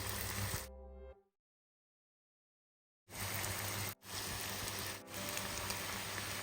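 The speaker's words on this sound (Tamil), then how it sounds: "அப்படியே நம்ம திருப்பி போட்டுட்டு மிதமான சூட்டில் வறுக்கலாம்" Mysore bonda batter fries in hot oil, a loud, steady bubbling sizzle that cuts out abruptly for a couple of seconds and then resumes at full strength.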